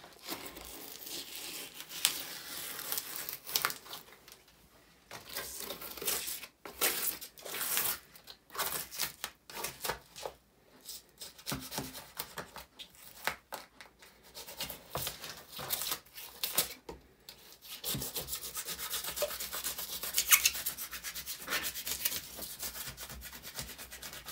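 Dried window installation foam being cut off, heard as close, continuous rasping and scraping strokes with irregular bursts and brief pauses, no voices.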